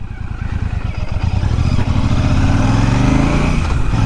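A Royal Enfield Bullet 650 motorcycle is ridden on a highway. Its engine thumps steadily and loudly and builds to a continuous drone as it accelerates, with no talk.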